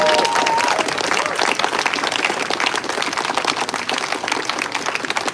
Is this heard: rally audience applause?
yes